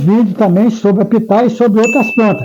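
A single bright notification bell ding rings out near the end, sustained and clear, over continuous Portuguese speech from someone talking throughout.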